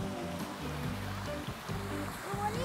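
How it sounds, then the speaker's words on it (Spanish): A waterfall at an outdoor mini golf course gives a steady, soft rushing wash, with tonal sounds from a voice or music layered over it. "Me encanta esa cascada, amiguitos."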